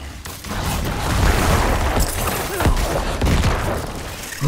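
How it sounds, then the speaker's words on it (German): Explosions and bursts of combat noise from the action RPG Diablo 4, a dense, loud barrage of booms and crackling blasts with several sharper hits, continuing without a break throughout. "Ich glaube, das mit der Explosion ist doch ziemlich cool."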